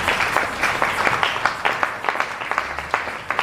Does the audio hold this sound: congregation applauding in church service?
yes